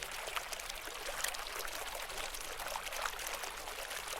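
Backed-up plumbing in an old house in a video game sends excess water gushing out, a steady hissing pour that runs unbroken and fairly close with no talk over it.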